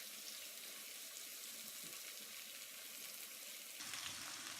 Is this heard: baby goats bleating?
no